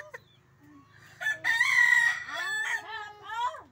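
A rooster crows once with a long, drawn-out call, fairly close, preceded by a few faint clucks.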